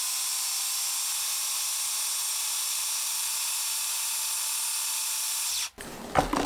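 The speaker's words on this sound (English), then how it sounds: "So we're gonna wait for the chocolate chips while we blend this all up." A blender runs steadily on black bean brownie batter with a loud, even whirring hiss, then cuts off abruptly near the end, leaving brief clatter and handling noise.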